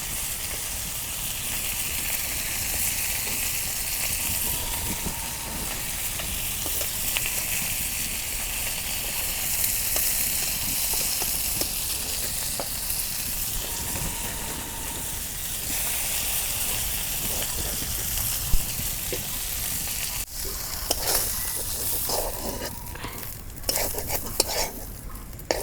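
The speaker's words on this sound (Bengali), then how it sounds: "এই দেখো মাছের ডিম আমি কি সুন্দর করে ভাজছি।" Fish roe frying in a pan in a village kitchen, a steady soft sizzle with occasional stirring scrapes throughout, fairly quiet and with no talking.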